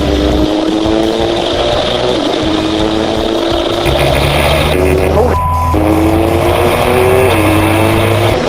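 A Formula 2 race car engine running on track, heard from onboard as a loud, steady turbocharged drone whose pitch rises and falls with throttle changes, filling the whole clip.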